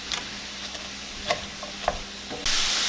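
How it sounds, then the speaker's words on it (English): Ground beef and onions cook in a pan with a low, steady sizzle and a few light stirring taps. The frying surges louder and hisses over the last half-second. "I'm just going to cook this until everything is cooked through and the onions are tender."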